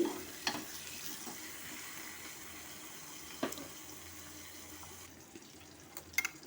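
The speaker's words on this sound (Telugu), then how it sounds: "ఆ టమాటా ముక్కల్ని అందులో పడేయాలి అందులో వేసిన తర్వాత కొంచెం అలా ఇలా తిప్పుతూ ఉండాలి" Tomato pieces fry in a pan, a faint even sizzle broken by a few light clicks and scrapes of stirring.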